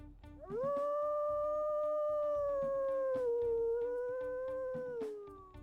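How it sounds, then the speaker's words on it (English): A wolf from the video game WolfQuest lets out a single long, steady howl that rises at the start, holds, dips slightly and fades, clear and alone over faint background music. "Let's go ahead and listen to our howls."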